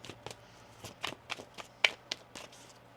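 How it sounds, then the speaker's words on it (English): A tarot deck being shuffled by hand, with a rapid series of crisp riffles and snapping card flicks, close and fairly quiet, with no talk over it. "One more shuffle."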